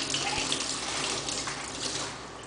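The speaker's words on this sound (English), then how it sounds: "run warm water through the bottom of the bowl" Warm tap water runs through the bottom of a rotator hookah bowl in a sink, a steady close splashing gush that carries on without a break.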